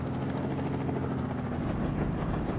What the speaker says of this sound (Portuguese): Eu não sei nem se os players conseguem ver os helicópteros.